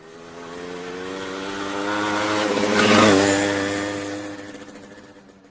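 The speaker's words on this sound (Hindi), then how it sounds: "मोटरसाइकिल।" A motorcycle engine drones with a steady buzzing hum, growing louder as it passes close by, then fading away.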